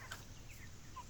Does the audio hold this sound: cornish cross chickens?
yes